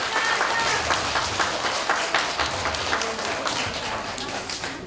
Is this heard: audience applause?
yes